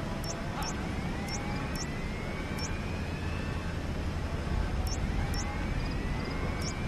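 Support helicopter arriving in the video game Metal Gear Solid 5, a steady loud rotor and engine roar that builds slightly, with faint high rising tones and brief clicks over it.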